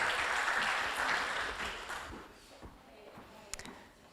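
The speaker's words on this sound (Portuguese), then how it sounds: "Uma salva de palmas." Conference audience at a panel on international and constitutional jurisprudence applauding a speaker, dense clapping that fades after about two seconds into scattered claps, faint shuffling and a few taps.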